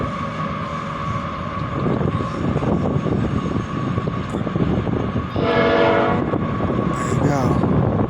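A CN Q137 westbound double-stack freight train with two engines in Port Huron, Michigan, rumbling loudly nearby as its horn sounds in a couple of strong blasts midway and later.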